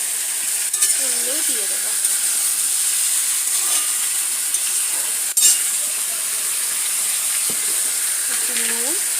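Tomatoes fry in a pan with salt and turmeric, giving a steady close sizzle and hiss throughout, with a few stirring clinks and someone speaking briefly over it.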